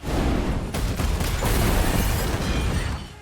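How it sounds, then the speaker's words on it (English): In a film scene, a stove ignites inside a kitchen wagon and explodes, producing a loud, sustained roar of blast and rumble that fills the scene with dense crackling debris noise and no talk. "The stove ignites and an explosion happens."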